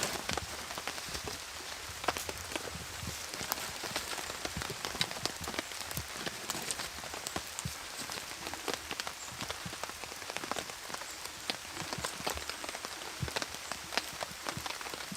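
Steady heavy rain pours down on a campsite outdoors, a dense continuous hiss with scattered drops pattering on surfaces, no voices.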